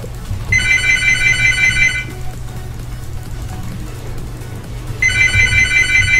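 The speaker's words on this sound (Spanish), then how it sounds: "Fue los teléfonos de mi casa." Home telephones ring in two bursts of rapid electronic trilling, each lasting about a second and a half, separated by a pause, over a low steady background hum.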